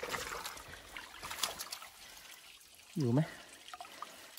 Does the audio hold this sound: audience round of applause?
no